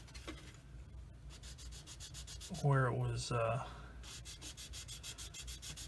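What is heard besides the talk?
sanding plastic model part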